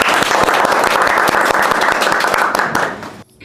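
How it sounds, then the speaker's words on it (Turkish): Dense audience applause at a live quiz show, loud and sustained for about three seconds, then cutting off abruptly near the end. "güçlü bir alkış alabilir miyiz?"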